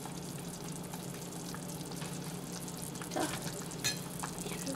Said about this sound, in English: We're just gonna stir that in right and let it cook some more.